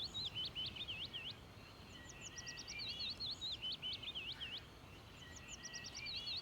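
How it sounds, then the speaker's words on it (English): Birds chirp and whistle outside in quick repeated bursts of song throughout, over a steady broadband background hiss, with no talking. "Why do I hear birds all of a sudden?"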